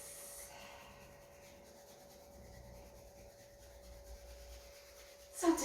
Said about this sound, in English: Rub the hands together, rub the fingers.